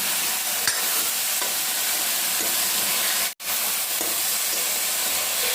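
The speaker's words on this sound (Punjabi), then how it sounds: "ਤੇ ਪਾਤੇ ਆਲੂ ਤੇ ਪਿਆਜ਼ ਇਹਨੂੰ ਭੁੱਜਣ ਦਿੰਨੇ" Potatoes and onions sizzle steadily in a pan, a constant bright frying hiss with a few soft stirring scrapes and one brief dropout midway, no voices.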